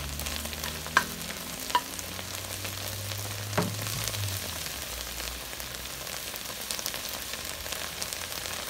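Quiet, steady sizzling of onions browning in a pan, with a few scraping stirs and light clinks of a utensil against the pan.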